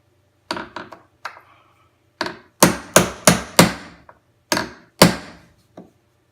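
A hammer strikes a wooden threshold for a mouse-proof boiler room doorway, about a dozen sharp close knocks in irregular clusters with brief silences between them.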